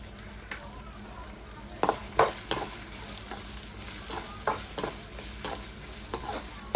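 Vegetables stir-fried in a pan for prawn fried noodles: a steady soft sizzle with repeated scraping and clattering strokes of a spatula at irregular intervals, close and fairly quiet, with no talk.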